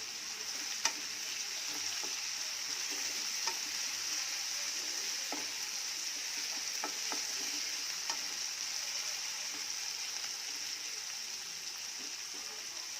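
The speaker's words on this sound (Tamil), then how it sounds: "மூணு தக்காளி சேர்த்துட்டு இது எல்லாத்தையும் நல்லா வதக்கணும்." Three tomatoes sautéing in a pan, a steady soft sizzle with occasional light stirring clicks, fairly faint and even throughout.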